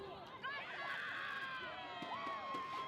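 Crowd cheering and shouting at a youth rugby league tournament final in New Zealand, a steady roar of many voices with whistles and shouts rising after a brief lull near the start.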